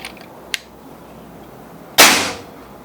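A single sharp shot from a Bocap Predator 500cc air rifle cracks out after a quiet pause, preceded by a couple of faint mechanical clicks.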